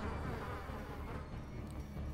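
Continuous insect buzzing from mosquito enemies in the Darkest Dungeon video game, a steady droning hum that stays even and fairly loud throughout with no voices over it.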